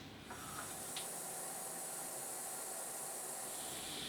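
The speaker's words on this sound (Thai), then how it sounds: "พอเราต้มน้ำมาจนเดือดดีครับ" A soft, steady hiss of water with pandan leaves boiling in a pot, quiet and unbroken throughout.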